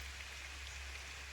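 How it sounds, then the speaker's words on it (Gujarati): Steady rain falling outdoors during the monsoon in hilly farmland with paddy fields, a soft continuous hiss of drops close by, with no voices. "બેસવા માટે બધે વરસાદ ચાલુ, વાદળ ને વાદળ."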